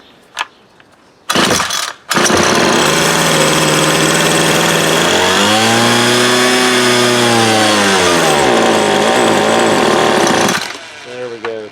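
Homelite string trimmer with a newly replaced carburetor starts after a couple of short pulls, then runs loud and steady with a rising and falling rev before dropping off; close up.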